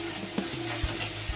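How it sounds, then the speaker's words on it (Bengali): Carrots sizzle gently in ghee while a spoon stirs them, a few soft scraping knocks against the pan over a constant close frying hiss, with no voices. "এগুলো আমি ঘিয়ের সাথে এগুলোকে ভাজতে থাকবো"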